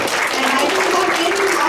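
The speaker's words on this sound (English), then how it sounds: "So once again, give yourself a round of applause." An audience at an anti-poverty community justice event gives a steady round of applause, dense and continuous clapping with some voices mixed in.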